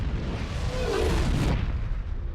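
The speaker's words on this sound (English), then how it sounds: "And here you have the atomic explosion from the self-destruct device." A deep, rolling atomic blast from the Predator self-destruct device sweeping over an Aztec city: a sustained roaring rumble that swells, holds, then cuts off abruptly.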